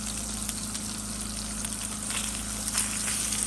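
Philly brats from Stone House Butcher and Provisions fry in a pan, giving a steady, close sizzle with crackling pops over a low constant hum and no talking.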